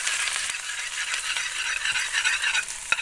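A ladle stirs garlic, onion and capsicum in a pan, scraping and rattling continuously up close over a light sizzle, with a sharper clink near the end and no speech.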